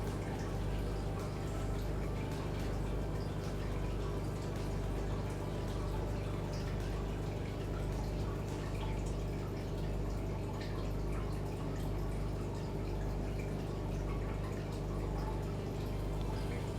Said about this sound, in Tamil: இப்போ நான் கொஞ்சம் தண்ணி ஊற்றி நல்லா மிக்ஸ் பண்ணிக்க போகிறேன்.